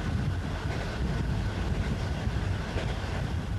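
A passenger train rolling on through the night, heard as a steady, loud, unbroken rumble and rush of noise that holds constant throughout, with no voices.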